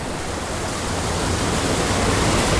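A mountain creek rushes steadily nearby, a dense continuous wash of flowing water with no talking.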